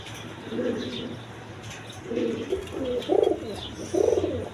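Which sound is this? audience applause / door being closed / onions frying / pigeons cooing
pigeons cooing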